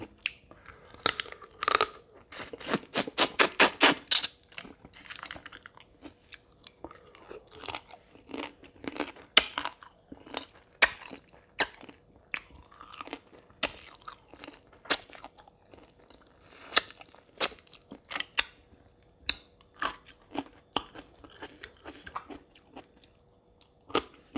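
Crunchy bites and chewing of a spicy Thai papaya salad (som tam) with raw blue crab and fresh shrimp, a rapid burst of loud crisp crunches followed by steady close-up chewing and scattered snaps.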